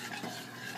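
Caramel being stirred into cream in a pan over low heat for crème brûlée, a brief, steady scraping swirl heard up close and fairly quiet, with no talking.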